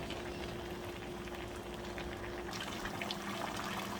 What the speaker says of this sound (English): Then I'll close for it to boil